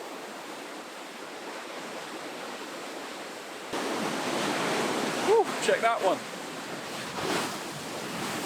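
Rough sea waves surge and crash on the rocky coast of Madeira, a roar of surf and wind that swells louder midway, with a person calling out excitedly over it.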